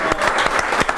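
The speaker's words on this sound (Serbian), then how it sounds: "Aplauz, ljudi" A live concert audience claps in a short, lively burst, with close, uneven hand claps blending into steady applause.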